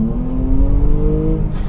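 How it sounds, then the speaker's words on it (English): A 2017 Jaguar F-Pace R Sport's engine revs in one loud, sustained pull, its note climbing steadily under a constant rumble of road noise, with no talking. "That engine note, you really can't beat it. It just sounds so good."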